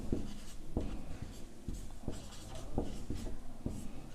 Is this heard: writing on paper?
yes